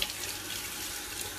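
Tap water runs steadily into a kitchen sink, splashing over a removable part of a Kenwood JMP400 slow juicer as it is rinsed; a continuous close hiss with no talk.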